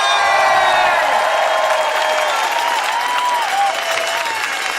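A union rally crowd in support of teachers cheers and applauds loudly, sustained clapping with whoops and shouts filling the space, close and continuous.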